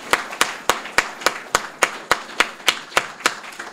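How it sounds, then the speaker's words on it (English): Clapping at a religious lecture given by a Nation of Islam student minister: sharp, evenly spaced claps in a steady rhythm, about three per second, crisp and close, with no talk. "Let's give the truth a round of applause."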